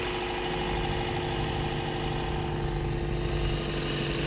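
A 2005 Scion xB with a 1.5L engine and a broken belt idles steadily, a close, even mechanical hum with a constant low drone and no speech.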